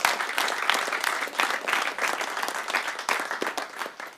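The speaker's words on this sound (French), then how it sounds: "t'as voulu applaudir, t'as pas osé, tu peux le faire" Studio audience breaks into steady, dense applause that holds at an even level throughout, with many hands clapping close by and no voices on top.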